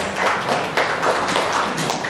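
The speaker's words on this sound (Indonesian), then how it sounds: "Tepuk tangan untuk Eman 1 Brebes" Audience applauding at a farewell and retirement ceremony, a steady patter of many hands clapping at moderate distance with uneven bursts, continuous for a couple of seconds.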